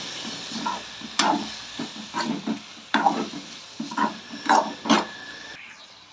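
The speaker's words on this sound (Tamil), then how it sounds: "எல்லாத்தையும் ஒன்றா மிக்ஸ் பண்ணிக்குவோம்." A spoon stirs dried fish and tomato thokku with ginger-garlic paste in a hot pan, giving repeated scraping strokes over a steady sizzle and hiss, close and with no talking.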